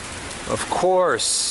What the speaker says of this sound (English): it starts raining while I'm in there.